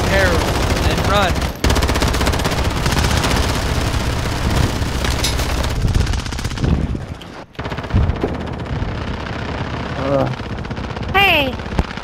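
Rapid automatic gunfire from players in Call of Duty Modern Warfare, loud and nearly continuous bursts with brief gaps and a sharp break midway, while voices chatter in the background.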